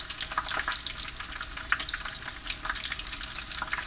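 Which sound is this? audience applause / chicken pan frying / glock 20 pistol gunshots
chicken pan frying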